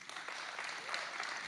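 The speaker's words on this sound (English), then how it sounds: "Odd applause line, but okay." An audience applauds at a SXSW talk, a steady, fairly faint wash of clapping from the crowd throughout.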